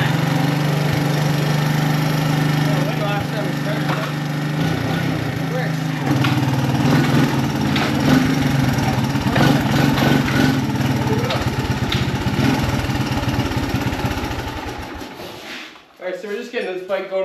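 Honda ATC 200 three-wheeler fitted with a new carburetor starts and runs with a steady, buzzing mid-pitched engine drone close by, then cuts off abruptly near the end before a brief restart clatter.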